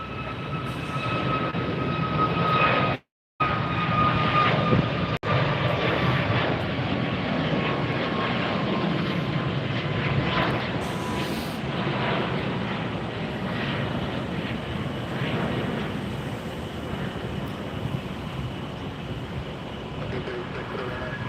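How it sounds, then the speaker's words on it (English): A Southwest airliner departs from a runway at Tampa airport, a loud sustained jet engine roar heard from nearby that holds steady for over twenty seconds, with a brief cut early on. "we've got Southwest cleared to depart"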